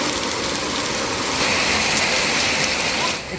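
Heavy monsoon rain pours steadily in a hill village in the mountains, a dense, loud, continuous hiss of drops drumming on surfaces, growing slightly stronger midway and with no voices over it.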